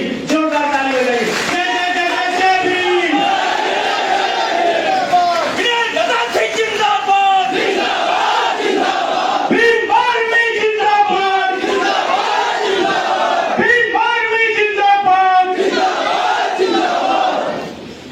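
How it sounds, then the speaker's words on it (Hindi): A crowd at a political party's divisional convention in Jaunpur cheers and shouts loudly and continuously in unison, voices rising and falling in waves for about eighteen seconds without a break. "जोरदार ताली बजाइए"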